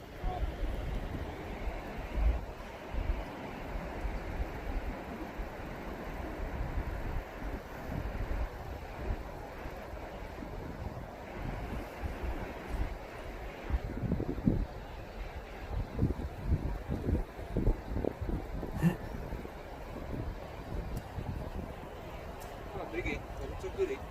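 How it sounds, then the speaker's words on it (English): Strong gusting wind buffets the deck of a fishing boat at sea, a steady low roar with rumbling microphone thumps and surging bursts, waves washing beneath, with a voice speaking faintly at times under the noise. "This is what we've been battling with today, this horrendous wind"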